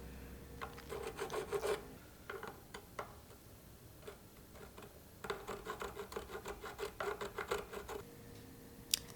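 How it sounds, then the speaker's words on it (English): Music Nomad nut slotting files rasp through the slots of a guitar nut in two bursts of quick back-and-forth strokes, close and fairly quiet, with a short lull between them. "taking these nut slotting files and just running through each nut again to clear the final bits of that gunk out of there"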